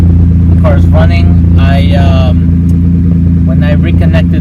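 A Maserati Biturbo engine idles steadily after an ignition switch repair, a loud, even mid-low hum close by, while someone talks over it at intervals.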